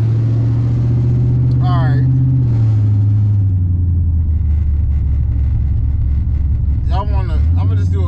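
The engine of a 1986 Monte Carlo SS hums through a rolling pull, a steady, loud low drone that shifts pitch partway through, with someone talking over it.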